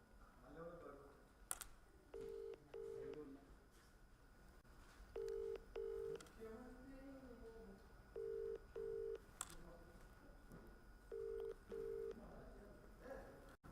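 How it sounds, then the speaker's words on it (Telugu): Telephone keypad dialing to redial after a dropped call: short paired DTMF tone bursts in several quick clusters, each group of two or three beeps spaced a few seconds apart over faint background hiss and low murmur. "కాల్ కట్ అయింది, మళ్ళీ చేస్తాను."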